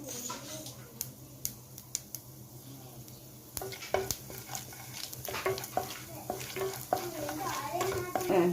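Mustard seeds and chana dal frying in hot oil, with a soft sizzle broken by scattered sharp pops and crackles that grow busier after a few seconds, heard under quiet talking.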